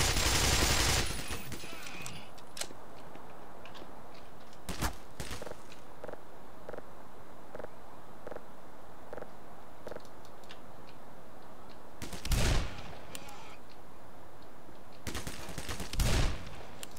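Gunfire in the Black Mesa shooter game, a few loud bursts widely spaced over steady game ambience, with regular ticking footsteps in between.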